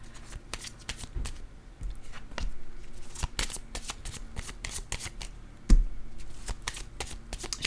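Oracle cards riffled and shuffled by hand at close range, a busy run of crisp flutters and soft taps followed by a card being drawn from the deck, with no talking.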